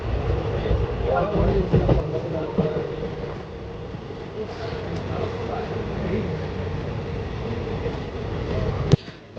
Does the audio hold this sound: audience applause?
no